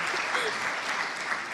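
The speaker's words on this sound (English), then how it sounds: "Please, the biggest applause" Audience applause at a startup summit stage event, steady dense clapping from a crowd filling the whole moment without a break.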